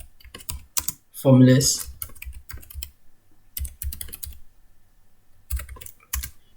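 Quick bursts of typing on a computer keyboard, entering formulas into a Microsoft Word document, come in short clustered runs between stretches of near-silence, with a brief spoken word partway through.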